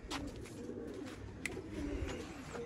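Sialkoti roof pigeons coo softly nearby, repeated low throaty calls over a faint background with a few brief sharper sounds.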